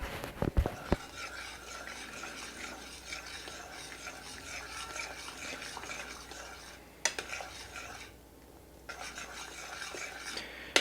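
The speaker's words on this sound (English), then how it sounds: "So then we gotta stir that in." A spoon steadily stirs food in a pot, giving a close, continuous scraping and clinking with light sizzling underneath and a brief pause near the end. No one speaks.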